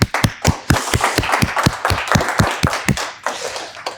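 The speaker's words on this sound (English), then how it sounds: "Give applause to Paul" A conference audience gives the next speaker a brief welcome, with loud, close, fairly sparse clapping in a loose rhythm of distinct hand claps that fades slightly toward the end.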